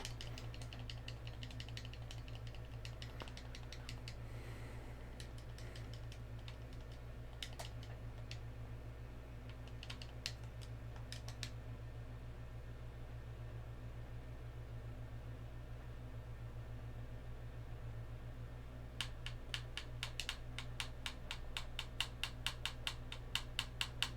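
A game controller's buttons click during play of Kirby's Epic Yarn, giving quick, faint, irregular tapping in scattered bursts over a steady low electrical hum, with a denser flurry of clicks near the end and no talking.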